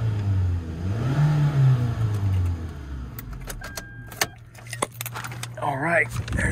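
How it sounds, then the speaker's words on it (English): A 2005 Toyota Camry LE with a 4-cylinder engine and 112k miles revs up and settles back while idling close by, with keys jangling and a person talking over it at the end. "Rev it up if you can hear that."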